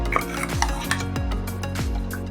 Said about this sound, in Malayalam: നമുക്കിത് നന്നായിട്ട് ഇളക്കി